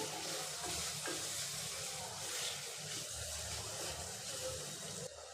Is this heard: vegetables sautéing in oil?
yes